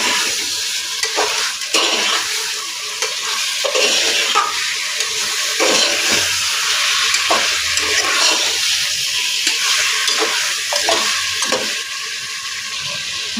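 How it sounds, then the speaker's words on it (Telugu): Onions fried golden with chicken pieces, for a chicken pulusu, sizzle steadily in a pan while a spoon scrapes and stirs in repeated bursts; the frying hiss stays close and fairly loud throughout, with no voices. "ఈ ఉల్లిపాయలు దోరగా వేగనివ్వాలి. కొద్దిగా వేగిన తర్వాత చికెన్ ముక్కలు వేసేసుకోవాలి. ఇవి బాగా కలుపుకోవాలి."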